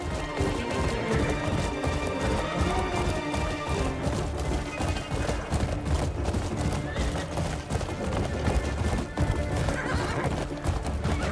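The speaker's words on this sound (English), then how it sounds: "You can just ride the horse all the way back down." Horse in the video game Crimson Desert galloping with rapid, continuous hoof clip-clops and occasional whinnies, loud and close over a dense layer of game sound and music.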